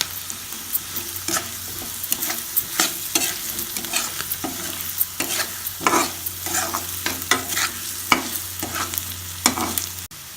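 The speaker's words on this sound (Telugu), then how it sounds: "ఇట్లా నూనె పైకి తేలేంత వరకు కొంచెంసేపు ఫ్రై చేసుకొని" Baby potatoes frying in oil in a pan, a continuous sizzle broken by repeated scraping and clinking strokes of a spatula as they are stirred, close and steady for the whole stretch.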